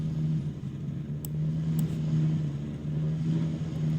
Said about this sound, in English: So engine noises one can hear.